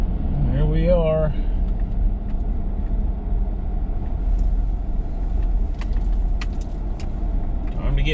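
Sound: big semi truck engine warming up

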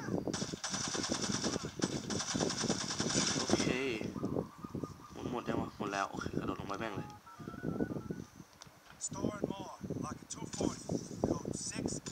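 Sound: gunfire in video game Gangstar Vegas

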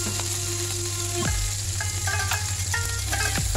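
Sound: garlic and onion sautéing in oil in a pan

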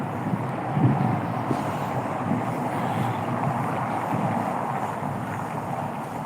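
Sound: wind

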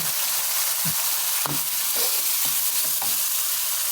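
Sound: sugar sizzling in hot wok

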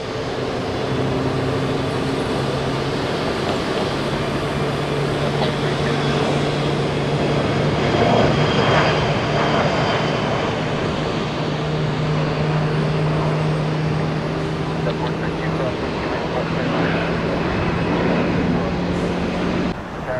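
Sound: Bombardier jet aircraft at Tampa International Airport

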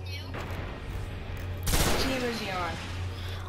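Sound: gunfire in the video game Destiny

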